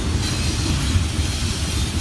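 A long train passes on a railway near the Appalachian Trail, a loud continuous rumble of wheels and cars rolling steadily by at close range.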